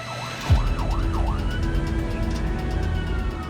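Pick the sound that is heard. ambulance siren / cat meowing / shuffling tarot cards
ambulance siren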